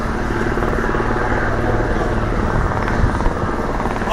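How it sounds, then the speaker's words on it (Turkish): Military helicopters approach a landing zone during an armed forces exercise in Northern Cyprus, a loud, steady rotor thrum and engine roar filling the whole stretch without a break. "helikopterler indirme, bindirme bölgesine yaklaşmaktadır"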